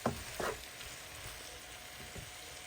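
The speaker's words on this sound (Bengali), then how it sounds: "উল্টিয়ে পাল্টিয়ে ভালো মতো নেড়ে দিতে হবে, তাহলে সসটা ভালো মতো মিশবে চাউমিনের সাথে" Chicken chowmein with sauce is tossed and stirred in a pan, with a couple of scraping clatters at the start and then a quiet, steady sizzle. No voices.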